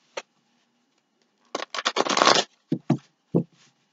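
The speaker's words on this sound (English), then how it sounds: "I know I feel like giving 3 more shuffles." Tarot cards being shuffled by hand, with a single riffle-like burst followed by a dense sustained shuffle and several short separate card snaps, close and clear with no talking.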